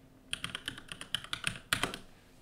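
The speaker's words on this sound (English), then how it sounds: "Now from here, all we have to type is ipconfig." Someone types the ipconfig command into a Windows command prompt on a computer keyboard: a quick, close run of crisp clacking keystrokes, ending in a slightly louder cluster, with no speech.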